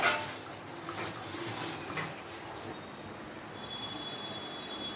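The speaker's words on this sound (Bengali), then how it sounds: "দেখো আমার ঝোলটা ফুটে গেছে। আমি এই যে ধোকাগুলো দিয়ে দিলাম ঝোলের মধ্যে" A pot of curry broth at a rolling boil after ready-made lentil dumplings are dropped in, giving a steady, close, hissing bubble with no talk.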